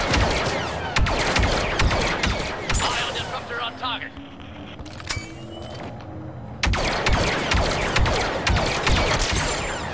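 Rapid bursts of blaster and rifle fire in Star Wars Battlefront II, dense volleys at the start and end with a quieter stretch in between, heard under game sounds and a voice talking.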